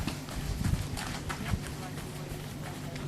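A sport horse gelding moves over the ground, with faint, uneven hoofbeats under steady wind-like background noise and some distant voices.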